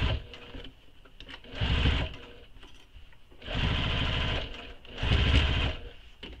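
A sewing machine stitches the side seam of a crossbody bag in three close, steady runs of rapid whirring, with quieter pauses and handling between them; no voices.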